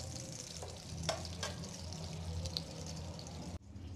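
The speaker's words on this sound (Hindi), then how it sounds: "गरम कर लेते हैं और घी डाल देते हैं इसमें।" Ghee heats in a pan with a low, steady sizzle, close by, broken by a couple of soft stirring scrapes before the sound cuts off sharply near the end.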